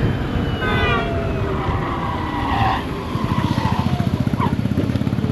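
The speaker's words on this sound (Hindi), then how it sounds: "ये जो आपने आवाज़ सुना, ये पिछला ब्रेक आवाज़ था" An Ather 450X electric scooter's motor whines through steady road rumble in sport mode, then the rear brake squeals briefly before a rapid pulsing judder takes over toward the end.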